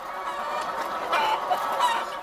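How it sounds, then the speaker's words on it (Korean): Caged laying hens in a poultry farm clucking faintly, a soft overlapping chorus of several birds at a distance. "한 마리가 울기 시작하면 나머지 닭들도 울어댈 정도로 예민하기도 하다"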